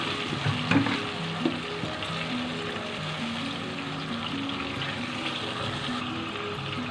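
Ginger garlic paste sizzles in a hot pan, a steady moderate frying hiss with a couple of brief clatters near the start and a soft melodic tone running underneath.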